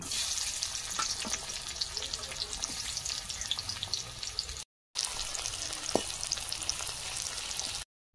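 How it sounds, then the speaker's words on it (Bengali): Chopped onions frying in hot oil for Hyderabadi chicken, a dense continuous crackling sizzle heard up close, fairly quiet and steady, with a couple of brief dropouts and no talking. "তেল গরম হয়ে গেছে, কুচিয়ে রাখা পেঁয়াজ দিয়ে দেব।"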